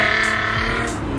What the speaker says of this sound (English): I thought that was a Hellcat, and it's like a TJ with the muffler chopped